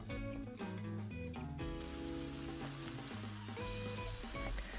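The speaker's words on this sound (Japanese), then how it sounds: "肉巻きを焼いていきます。" Meat rolls seasoned with salt and pepper and dusted in flour sizzle steadily in a frying pan, a soft continuous hiss beneath prominent background music.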